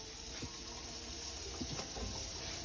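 Water is poured steadily into a pot to cook rice, a faint, continuous splashing rush lasting a few seconds.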